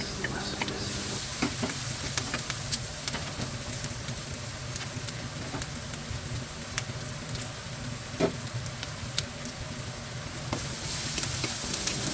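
Garlic for pork adobo frying in a pan, giving a steady dense sizzle that crackles continuously up close, with occasional stirring clicks and no talk over it.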